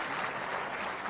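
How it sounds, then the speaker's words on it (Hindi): An audience claps for an honoured teacher at a ceremony with the education minister and governor, producing a brief, dense, steady burst of applause. "तालियां जोरदार इनके लिए होनी चाहिए"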